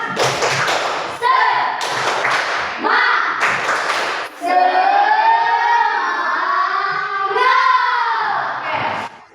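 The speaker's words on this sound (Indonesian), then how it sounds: "tepuk semangat" Students in a classroom teaching session perform a rhythmic spirit clap, sharp patterned claps in short bursts alternating with a loud sung or shouted group chant.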